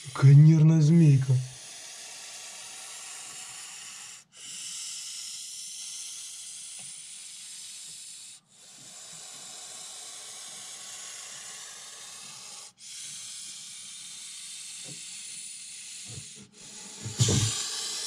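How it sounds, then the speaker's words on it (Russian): A threatened Montpellier snake (Malpolon monspessulanus) hisses in long sustained breaths, several drawn-out hisses separated by brief pauses, close and fairly loud, with a person's voice briefly at the start and end. "Как она шипит"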